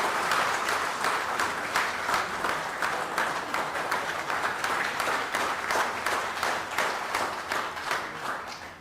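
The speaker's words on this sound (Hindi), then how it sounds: "उनको तालियां हो जाए।" Members at an association general body meeting applaud a newly elected president, a steady, moderately loud round of clapping from many hands that goes on for about nine seconds and fades slightly at the end.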